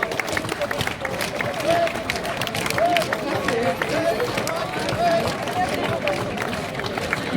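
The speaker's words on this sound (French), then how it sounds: "Un tonnerre d'applaudissements pour les troupes alpines" Applause for alpine troops at an outdoor historical commemoration parade, heard as steady crowd clapping and hubbub sustained throughout, with voices mixed into the noise.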